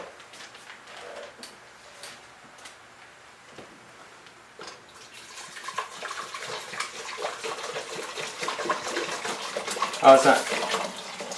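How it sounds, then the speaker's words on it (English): Very hot liquid from a homemade food-stamp wine mix being poured back into a pot, a rising gush and splash of flowing liquid that grows louder toward the end, with a brief spoken remark. "you can listen to the noise it makes when I pour it back in"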